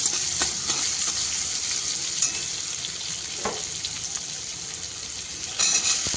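Chopped onions, tomato, and green and dried chillies fry in a pan with a steady, close sizzle, punctuated by a few light scrapes of stirring.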